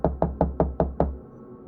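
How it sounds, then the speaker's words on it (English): Six evenly spaced knocks on a door land in quick steady rhythm, each a solid close thud, with a low hum beneath and no talk. "Then came the knock."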